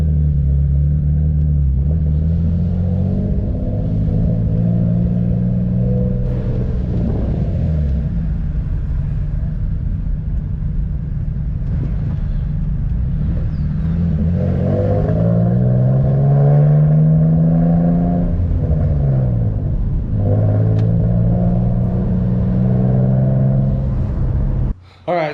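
A drift build car's engine idles with a steady low rumble, then revs up and down in several swells, loud and close.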